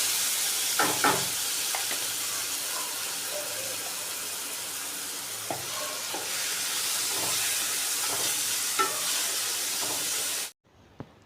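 Onion and tomato frying together with salt in a pan, a steady loud sizzle with occasional stirring scrapes and clinks, ending abruptly near the close.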